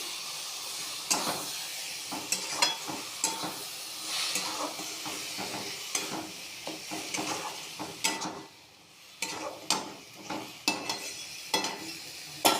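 Cabbage frying in a pan is stirred with repeated scraping strokes against a steady sizzle, the stirring arriving in uneven bursts for about twelve seconds with a short quieter gap midway.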